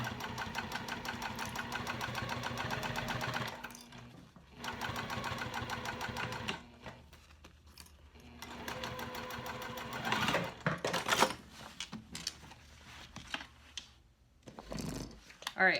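A sewing machine topstitches a quarter-inch seam on a mini box tote, running in steady fast bursts of needle chatter with short pauses between runs, close and clear.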